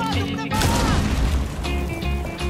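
A grenade blast in the Rainbow Six video game lands as a loud boom at the start of a hectic round. Players shout over the sustained rumble and game noise.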